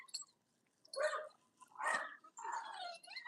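A dog whimpering and yipping in several short, strained bursts separated by brief pauses, fairly faint and close, with no talk over it.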